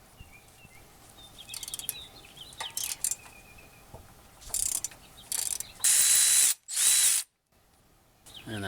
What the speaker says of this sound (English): now we need to loosen and remove the two bolts that hold on this caliper bracket or caliper hanger